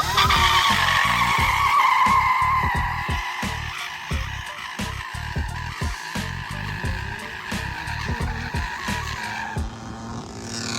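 Tires squeal and skid continuously for several seconds as an electric motocross bike set up as a supermoto drifts over its whining motor, with rough scraping bursts, loud and close.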